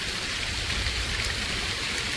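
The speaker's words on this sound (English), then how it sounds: "It's raining a lot harder now." Heavy rain pouring down outdoors at an off-grid homestead, a dense steady hiss of drops on surfaces, even and continuous with no talk.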